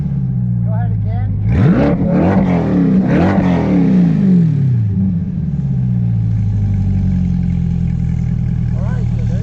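Aftermarket exhaust on a Chevrolet C8 Corvette revs hard from about 1.5 to 4 seconds, with sharp rising and falling sweeps, then settles into a loud, steady idle rumble that carries through to the end.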